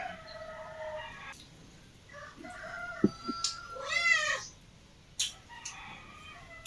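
A cat meows several times in drawn-out, wavering cries, with a few short clucking or clicking sounds in between, fairly close.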